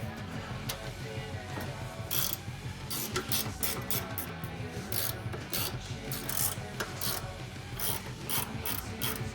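Mechanical arm being lowered in a garage, a quiet, continuous ratcheting and grinding with rapid repeated clicks throughout, no talking.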